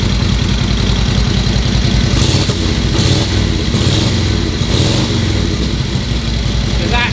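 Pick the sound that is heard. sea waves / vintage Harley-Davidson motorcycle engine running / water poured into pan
vintage Harley-Davidson motorcycle engine running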